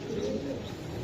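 Giribaz pigeons coo steadily in a low, continuous murmur, faint and brief, with no voices over it.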